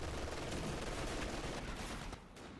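MG42 machine gun suppression fire in Company of Heroes 2, a dense continuous rattle of rapid bursts mixed with battle noise, tapering slightly near the end.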